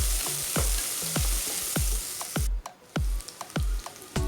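Spices and cashews fry in a pan with a continuous sizzle, punctuated by a regular series of sharp spoon taps and knocks against the pan about twice a second, close and without talk.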